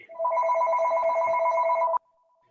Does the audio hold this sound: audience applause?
no